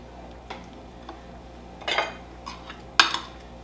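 Pork belly pieces dropped into a bowl of marinade and tossed, with a few sharp clinks and scrapes of utensils against the bowl, the loudest near the end, between quiet pauses.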